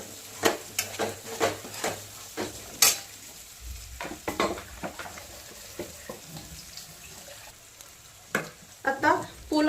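Peas and cashews frying in a pan for pulao, a low sizzle under repeated clattering strokes of a spoon scraping the pan, with a few louder knocks in an uneven rhythm.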